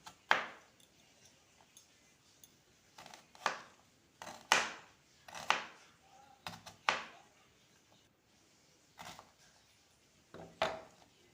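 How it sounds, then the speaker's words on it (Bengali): Onions cut into thick pieces with a knife on a board in a home kitchen, sharp separate chops spaced a second or so apart, close and crisp against a quiet background. "পেঁয়াজগুলোকেও এরকম মোটা মোটা করে কেটে নিতে হবে"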